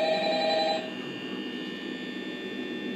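An in-game telephone rings in the horror video game Five Nights at Freddy's, with a brief bright electronic tone that stops after under a second, leaving a steady low background hum.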